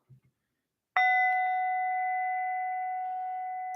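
A bowl is struck once after a faint thump and rings out with a clear, sustained multi-tone hum that fades slowly over several seconds in a quiet room.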